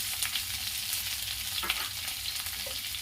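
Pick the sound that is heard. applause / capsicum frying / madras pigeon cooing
capsicum frying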